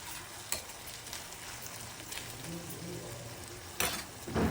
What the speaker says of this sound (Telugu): మీడియం ఫ్లేమ్లోనే వేయించుకోవాలి